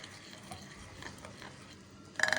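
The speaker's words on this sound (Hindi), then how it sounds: "अब हम तमाम चीज़ों को हम अच्छे से मिक्स करेंगे" A spoon stirs gram flour batter with spices and water in a bowl, making soft irregular scraping and clicking strokes, then a sharper clatter at the end.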